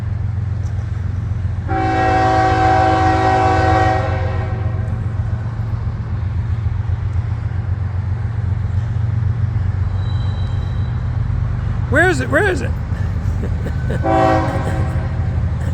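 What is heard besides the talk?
long train passing, sounding horn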